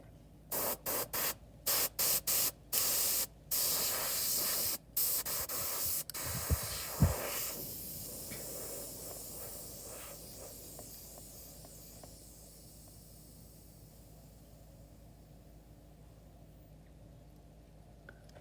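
Compressed air at about 60 psi hisses through an airbrush in a series of sharp on-off bursts, then settles into a long, steady hiss that slowly fades.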